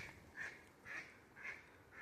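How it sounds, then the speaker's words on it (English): A duck quacks three times at an even pace, faint and somewhat distant, over quiet outdoor background. "Thought I heard a beaver, but it was a bird, a duck."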